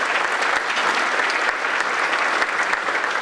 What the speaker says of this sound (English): let's give everybody a round of applause for those efforts